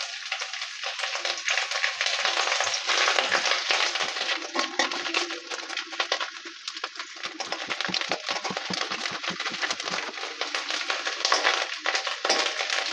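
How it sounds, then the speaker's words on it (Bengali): Shredded coconut frying in hot mustard oil in a kadai, a dense steady sizzle and crackle with occasional scraping and tapping of a spatula, close and continuous. "প্রথমেই নারকেল কুচিগুলো ভেজে নেব।"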